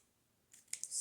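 Scissors snip through paper or card for a Christmas crafting project, a couple of short close cuts with soft clicks.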